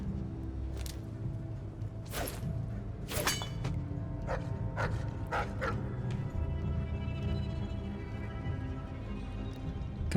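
Several dogs bark and yip repeatedly from inside a cage in Dishonored: Death of the Outsider, sharp bursts scattered over a steady low ambient hum, fairly close.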